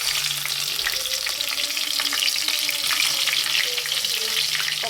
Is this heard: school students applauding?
no